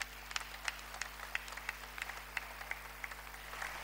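A church congregation claps during a Sunday worship service, scattered hand claps forming faint, light applause that stays steady throughout, heard from a distance against a low background hum.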